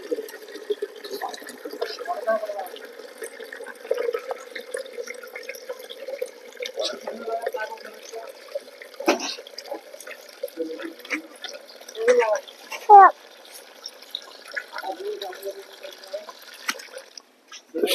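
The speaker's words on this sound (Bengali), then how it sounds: "তো এখানে আমাদের এই যে পানির কল আছে, এখান থেকে পানি নিচ্ছি।" Water runs from a tap while a pot is filled for lotus plants, a steady splashing stream with occasional clinks and drips throughout, under intermittent talk from a person nearby.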